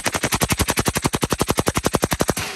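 A suppressed gun fires on full auto in one rapid, evenly spaced burst of about two dozen shots. The reports are close and loud, sharp but damped, and no voices are heard.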